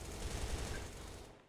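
Sustained automatic gunfire from an HK-style rifle in a video game, a dense unbroken burst lasting about a second and a half at steady loudness, with no voices over it.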